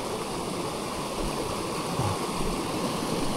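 A clear mountain river on a forest trail flows with a constant close rushing hiss and babble of water, steady and unbroken for the whole short stretch.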